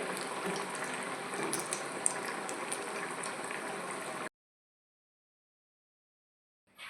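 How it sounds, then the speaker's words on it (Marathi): Poha vada frying in oil over a medium gas flame: a steady, dense sizzle and crackle that runs close and even for about four seconds, then cuts off into silence before a brief faint return at the end. "मध्यम गॅसवर तळून घ्यायचे"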